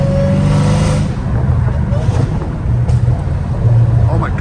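A straight-piped Dodge Hellcat Redeye rumbles loud and close from the driver's seat, its deep exhaust drone rising and falling with throttle and a few crackles breaking through.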